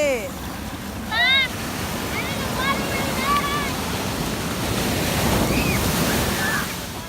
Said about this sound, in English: Our beautiful day at the beach.